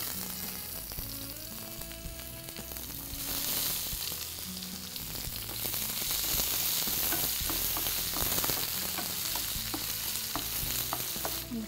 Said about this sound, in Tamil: இந்த வெங்காயம் வதங்கட்டும்.